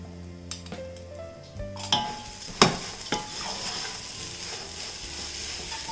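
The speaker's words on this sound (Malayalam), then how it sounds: "അപ്പോൾ ഈ ശർക്കരയും കൂടി ഇതിലേക്ക് ഇട്ട് കൊടുക്കാം." Grated jaggery tipped into a pan and stirred, with a few sharp clanks of a spoon against the metal pan over a soft steady sizzle and hiss, close and moderately loud.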